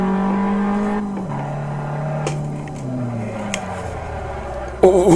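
A race car in Assetto Corsa accelerating, its engine tone holding then dropping through gear changes and climbing again, with a sharp louder burst of engine near the end.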